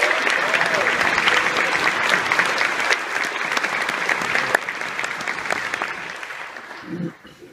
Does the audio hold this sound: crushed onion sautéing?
no